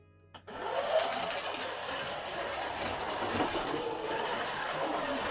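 A slot car's small electric motor whirs steadily at a high pitch on a Scalextric track, a continuous mechanical buzz that starts abruptly and holds an even level.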